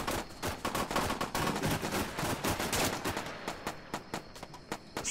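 Gunfire in the Arma 3 combat game: rapid bursts of close shots hammer out almost continuously, then thin to spaced single cracks toward the end, loud and alone without voices.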